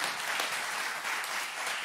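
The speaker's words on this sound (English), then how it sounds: "can we give Wes a round of applause, everybody?" A church congregation applauds steadily, a dense wash of many hands clapping close and loud for the whole stretch, with no voices over it.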